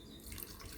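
Water poured into a pot of browned, simmering meat curry, a soft continuous splashing trickle, close and quiet, with no talking.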